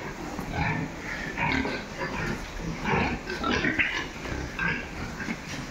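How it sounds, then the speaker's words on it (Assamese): Farm boars of about 50 kg, Landrace and Large White types, grunt repeatedly in short, rough bursts throughout, close by with steady pen noise around them. "এয়া মই কেটামান बोर আৰু দেখাব বিচাৰিছো আপোনালোকক"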